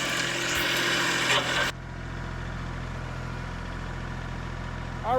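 A tractor engine idles on a trailer after loading, a steady low rumble that continues after a louder broadband burst cuts off early on; a brief voice enters at the very end.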